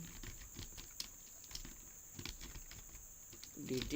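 Quick, light tapping on a computer keyboard while entering HTML code, a steady patter of close keystrokes at low level, with a brief voice near the end.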